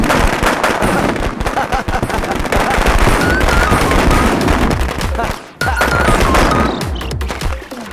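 Dense, crackling bursts of firecrackers going off in rapid succession, loud and continuous with a brief pause near the end, voices faintly mixed in.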